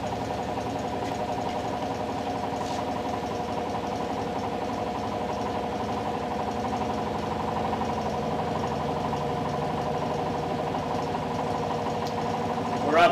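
Perepiteia generator motor running up to speed on a test rig, a steady, close mechanical hum with layered tonal harmonics that holds evenly throughout and swells slightly at the very end.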